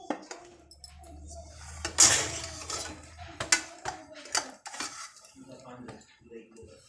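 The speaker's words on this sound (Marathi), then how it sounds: "असं जाड बुडाचं पातेलं घ्यायचं, पाणी टाकायचं त्यामध्ये आणि त्याच्यावर असं उकडायला ठेवायचं आणि वरती झाकण ठेवून द्यायचं" A heavy-bottomed metal pot with water, set up for steaming spinach papad dough with a lid placed on top: close clanks, scrapes and clinks of metal cookware at an irregular pace over a low hum, no talking.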